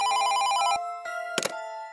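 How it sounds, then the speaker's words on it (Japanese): A hotel room telephone rings in a sound effect, an electronic trilling bell burst followed by a pause and a sustained tone with a short crackle, loud and close with no voices. "部屋の電話が鳴ったネバ。"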